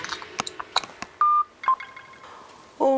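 Telephone keypad tones sound as a quick series of short beeps, followed by longer held dial tones. They are close and clear, with faint household noise between them and no talking.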